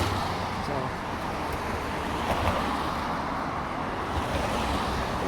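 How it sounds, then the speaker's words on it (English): Steady roar of passing car traffic heard outdoors on a walk, a continuous low rumble and hiss with no breaks, moderately close and fairly quiet. "it's not windy today, but it's noisy from the cars"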